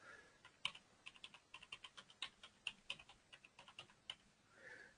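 Fingers typing a card number on a computer keyboard during a payment terminal test, with a steady run of crisp, close keystrokes in quick irregular rhythm.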